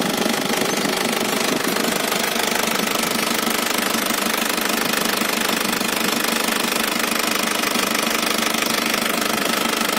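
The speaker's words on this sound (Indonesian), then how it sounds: "Dingin, mesinnya nyala." A 2000 Isuzu Panther New Royal with a rebuilt engine idles from a cold start, a loud, steady, knocking rattle that runs unbroken with no talk.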